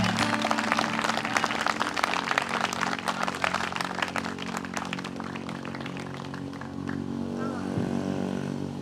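Enthusiastic crowd applause and cheering at a political rally in Holland, Michigan, dense clapping for several seconds that thins out toward the end, with a faint tonal hum underneath.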